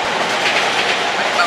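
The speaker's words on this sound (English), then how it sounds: "There goes a train." A train rolls past on a Tokyo line, its wheels clacking in a steady rumble with a faint squeal, sustained and fairly close.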